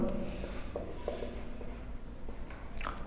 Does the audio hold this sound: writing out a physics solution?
yes